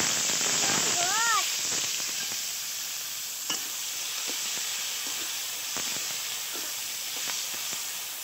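Fish frying in very hot oil, with a steady broadband sizzle and sharp spatters and pops throughout, plus occasional stirring; a voice is briefly heard near the start.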